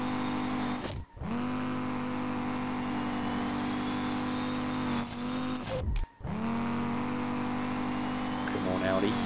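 Audi engine in the SLRR driving game revs hard and steady during a drift, with brief cuts where the throttle lifts and a rising roar returning each time, mixed with faint tire noise.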